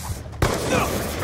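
A short, dense burst of rapid video-game gunfire laid down as suppressing fire, starting abruptly and rattling on loudly.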